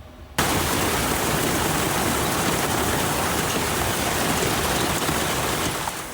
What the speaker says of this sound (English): There it is, heavy rain and hail showering Nevada City.